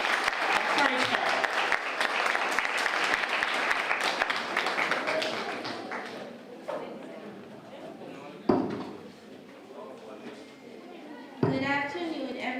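Many hands clap at a school prize giving and awards ceremony as the student council president reaches the stage. The dense applause fades after about six seconds, leaving a few scattered claps and knocks, with a voice talking over it.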